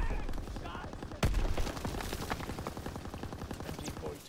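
MG42 machine gun firing in the Call of Duty WW2 video game, a dense rapid rattle of rounds in long bursts with a sharp crack partway through, loud, with faint talk beneath.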